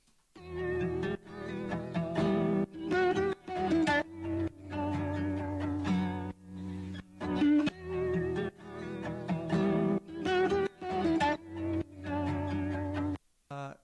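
A heavily effected, buzzy guitar-like sample plays a looping melodic phrase in choppy, pulsing bursts with gated gaps between them, dense and saturated throughout.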